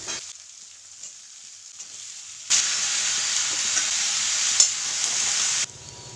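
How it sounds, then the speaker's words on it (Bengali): Mixed vegetables with panch phoron and green chillies drop into hot mustard oil, a loud steady sizzle bursting in suddenly after a quiet stretch and holding for about three seconds before cutting off. "তেল গরম হওয়ার পর ওর মধ্যে দিয়ে দিয়েছে পাঁচ ফোড়ন আর কাঁচা লঙ্কা আর দিয়ে দিয়েছে সমস্ত সবজিগুলো"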